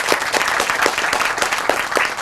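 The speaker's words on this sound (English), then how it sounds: "I think all of our youth deserve a round of applause for that." Audience applause at an outdoor trail dedication ceremony, a steady wash of many hands clapping at fairly close range, sustained and even throughout without talk over it.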